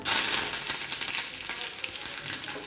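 Mustard seeds, cumin and curry leaves sizzle loudly in hot oil for a tadka, a dense, close, crackling hiss that stays steady throughout with no voices.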